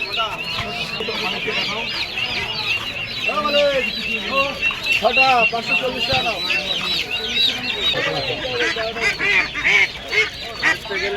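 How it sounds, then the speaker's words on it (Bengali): Dense clucking and honking of many chickens and ducks fill a busy poultry market in Krishnanagar, with people talking and haggling over the birds. "এখান থেকে শুরু হয়ে গেল আমাদের হাঁস মুরগির হাট"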